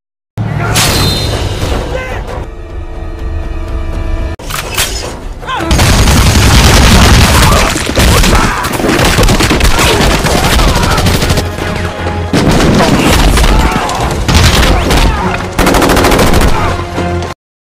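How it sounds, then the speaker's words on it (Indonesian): Heavy jeep-mounted gunfire in a Rambo action film roars loud and dense, with sustained machine-gun bursts and booming impacts that break off briefly and resume. "Rambo pun dengan cepat merebut senjata berat pada sebuah jeep dan langsung menembaki mereka semua hingga tak tersisa"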